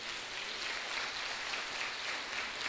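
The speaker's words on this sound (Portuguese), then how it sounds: "Você pode aplaudir Jesus por isso?" A church congregation claps during a sermon, a soft, even, continuous patter of many hands heard at a distance and fairly faint.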